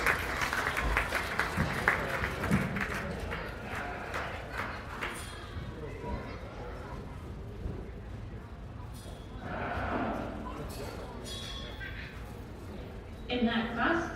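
Audience applause in the show ring at the Montgomery County Fair sheep show, a fairly faint patter of clapping with steady crowd noise beneath, swelling briefly near the middle and again at the end.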